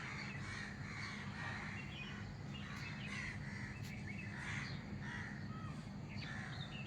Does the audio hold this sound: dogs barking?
no